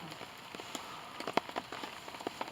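Rain patters onto a tarp stretched over a wet-weather bivouac, a quiet bed of drizzle broken by scattered sharper drops tapping irregularly close by, with no talk.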